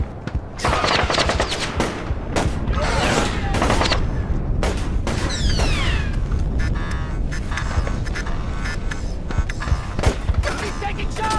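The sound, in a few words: gunfire in Splinter Cell video game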